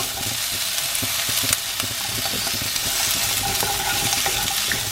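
Chopped red and green peppers frying in a pan for Spanish chorizo and pepper rice, a dense continuous sizzle with faint stirring, no talk.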